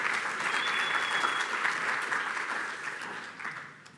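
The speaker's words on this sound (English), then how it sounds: "let's welcome him with a warm round of applause" A conference audience at a crypto industry event gives a warm round of applause to welcome a speaker, steady clapping that fades gradually over a few seconds.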